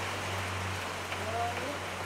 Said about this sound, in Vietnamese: Rồi cái này chắc nó mưa chút xíu nó tạnh thôi cô chú gì.